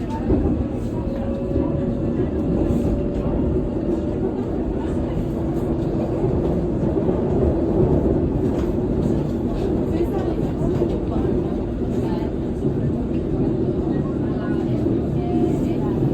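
A London Underground Circle Line train heading toward Westbourne Park from Paddington rumbles steadily throughout, with a constant low roar and faint rattling, while voices chatter softly over it.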